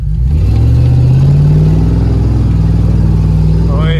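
A 2021 Ford F-150 Limited with its exhaust fallen off, the engine droning loud and steady at close range in a deep, continuous rumble that swells slightly as it revs.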